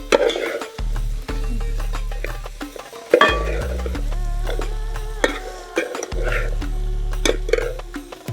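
Fried chicken for a Cherthala-style chicken perattu is stirred in a pan with tomato sauce, with repeated scraping strokes and clatter over a steady close sizzle and low hum.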